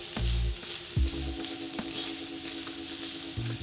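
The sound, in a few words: chicken pan frying and sizzling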